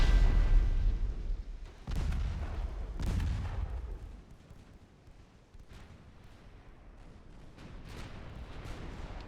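Fourteen-inch naval guns of a 1902 warship fire in the game Ultimate Admiral Dreadnoughts, with several heavy booms in quick succession early on and a deep rumbling tail, then a few fainter distant shots.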